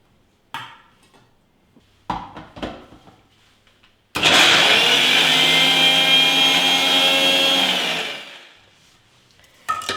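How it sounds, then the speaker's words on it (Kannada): A mixer grinder purees deseeded fruit into a thick paste for sugar-free, jaggery-free laddu: a few clattering knocks, then one loud, steady motor roar lasting about four seconds before it winds down. "ಇದನ್ನು ಒಂದು ಮಿಕ್ಸಿ ಜಾರ್ಗೆ ಹಾಕ್ಕೊಂಡ್ಬಿಟ್ಟು ಆದಷ್ಟು ಪೇಸ್ಟ್ ರೀತಿಯಾಗಿ ರುಬ್ಕೋಬೇಕು"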